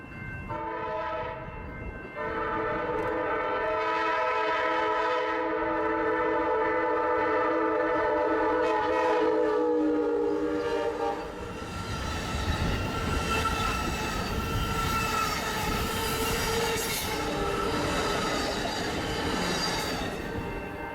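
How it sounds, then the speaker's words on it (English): A southbound Amtrak Surfliner passenger train sounds its horn at the Noel Street railroad crossing near San Diego, then rolls past with a loud, steady rumble of wheels and rail noise for the rest of the stretch; no talking. "My first heavy rail train at Noel was Amtrak Surfliner"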